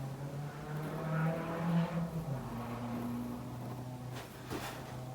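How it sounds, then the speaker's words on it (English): Car with a loud, droning exhaust drives past outdoors, its low engine note rising and falling over a few seconds at moderate distance before fading, with no talk. "Don't know if you could hear that car going past then, but what a stupid exhaust note."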